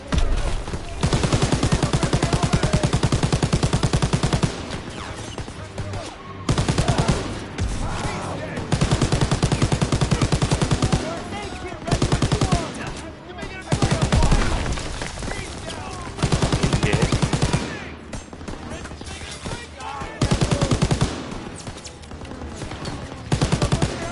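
Sustained bursts of turret machine-gun fire in the World War II shooter Call of Duty: World War II, loud and near, with short pauses between long volleys and voices under the gunfire.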